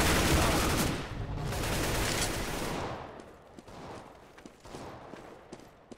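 M4A1 rifle fire in CS:GO deathmatch on Dust 2: a sustained loud burst of rapid automatic shots that tapers off into scattered single and short bursts of gunfire, with no talking.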